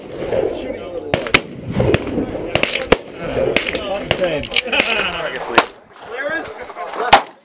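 Repeated sharp blasts from a Serbu Super Shorty compact pump shotgun at an outdoor Defcon shooting event, mixed with other shots and echoes over steady crowd chatter and nearby voices.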